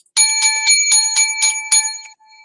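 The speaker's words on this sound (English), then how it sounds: "I got the levity bell" A small bell, bright like a bicycle bell, is rung loud and close about seven times in quick succession before it fades out.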